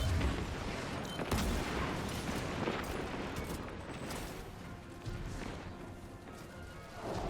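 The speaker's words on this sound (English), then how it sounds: "I'm going to toss a grenade onto this first Goliath tank." A grenade bursts on a Goliath tank in the Destiny 2 video game amid dense, continuous battle noise, with a few sharper blasts standing out from the roar.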